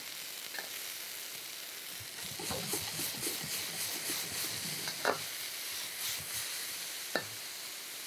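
A stirrer scrapes and clatters through food sizzling in a flat-bottomed wok, steady frying hiss throughout with a few sharper scrape knocks, close and moderately loud.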